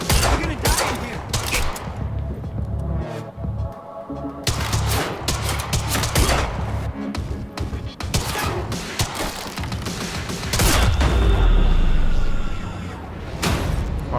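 Dense gunfire in the video game Quantum Break, rapid bursts of shots and sharp cracks with heavy booms and thuds, loud and nearly continuous, with voices speaking at moments.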